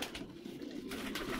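Pigeons coo softly in a low, repeated burble, faint and fairly close, with no talking over them.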